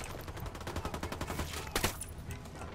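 Rapid bursts of enemy gunfire in Ghost Recon: Wildlands ring out as a fast, rhythmic rattle, followed by one louder, sharper shot near the end.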